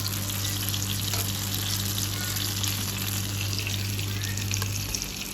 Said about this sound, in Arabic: بعد كده حمرت البطاطس وحمرت البتنجان، كل واحد لوحده بس في نفس الزيت.